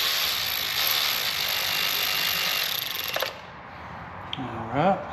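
A ratchet wrench running up engine block bolts on a Ford 3.5 EcoBoost engine rebuild, giving a steady fast clicking for about three seconds, then a few faint tool clicks.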